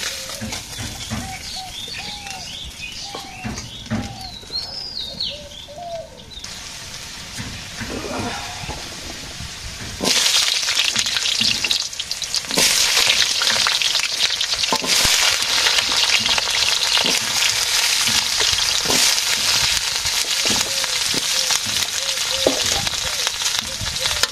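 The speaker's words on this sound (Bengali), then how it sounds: "আলু ভাজি হয়ে গেছে" Potatoes fry in a pan in a village kitchen, with quiet bubbling and some birdsong at first, then a loud, steady broadband sizzle that holds from about ten seconds to the end.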